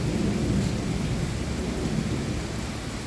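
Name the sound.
thunder and heavy rain in a thunderstorm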